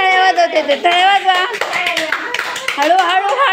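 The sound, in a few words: children clapping hands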